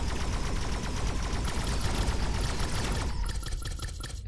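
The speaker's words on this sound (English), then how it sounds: "Shoot the containers." Gunfire in the video game Impulse of War shooting at containers: a dense, continuous rattle of rapid shots layered over a steady game soundscape, fairly quiet and without talk.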